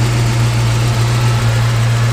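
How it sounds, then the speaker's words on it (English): A fuel-injected Ford 351W V8 in a 1940 Mercury coupe idling smoothly, a steady low rumble throughout, close and even with no talking. "go ahead and start it up. We'll hear it run. It runs really smooth."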